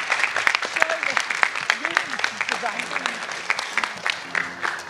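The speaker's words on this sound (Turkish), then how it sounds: "Ali Yaylı hocama da bir alkış." An audience at a theatre graduation show applauds for a teacher, a full, lively round of clapping that carries on throughout while voices talk over it.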